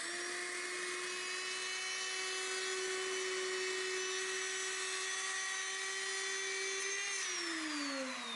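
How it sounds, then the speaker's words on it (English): A router riding on a wooden jig as it planes a slab made of glued colored pencils, giving a steady high-pitched whine that holds level and then drops slightly in pitch near the end, with no speech. "So the router just rides on these 2 pieces of wood, and I can move it around to cover the entire slab."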